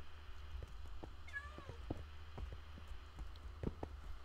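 Cats meowing in the video game Minecraft, with one short meow standing out over a low background hum and scattered soft clicks, no talk.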